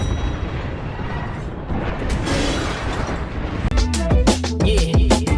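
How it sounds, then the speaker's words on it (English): Airstrike explosions rain down during an Apex Legends match, a rumbling barrage of booms that turns into several loud, sharp blasts in quick succession near the end. "Heads up, we got an airstrike on us."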